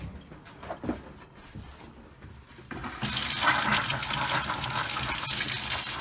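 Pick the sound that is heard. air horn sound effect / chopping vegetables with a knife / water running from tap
water running from tap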